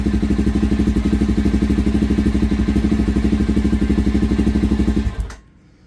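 A Suzuki DR-Z400 motorcycle engine runs at a steady, close, loud idle with an even pulsing thump for about five seconds, then is switched off and quickly dies away to quiet.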